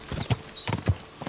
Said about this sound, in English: And stay on the road, horsey.